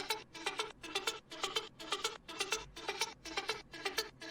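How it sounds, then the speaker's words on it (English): A tech house synth arpeggio plays alone as a steady run of bright, plucky repeated notes in a rhythmic pattern. It is clear and upfront. "let's take a look at this ARP, which in my version sounds like this."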